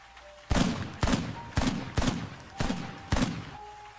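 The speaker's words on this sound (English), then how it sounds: "A gunshot exploded through the night." Six loud gunshots ring out as a sound effect in a spoken horror story set in the woods at night. The blasts come in an evenly spaced rapid series, each sharp and booming with a short echoing tail.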